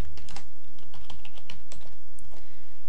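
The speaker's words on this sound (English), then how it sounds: "So we can type in terms like guided inquiry" Search terms typed on a computer keyboard, a close, brisk patter of key clicks in uneven bursts with short pauses, heard alone without speech.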